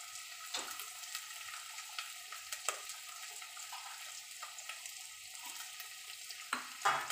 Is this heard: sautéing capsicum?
yes